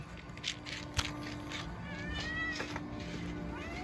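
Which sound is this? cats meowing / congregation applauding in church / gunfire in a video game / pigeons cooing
cats meowing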